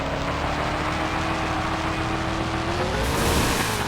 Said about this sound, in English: Those cars are feeling the wrath of a monster truck.